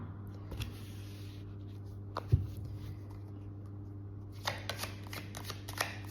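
Tarot cards are shuffled and drawn in a quiet room, with soft papery riffles and flicks, a single sharp tap, and a brisk flurry of card slaps near the end.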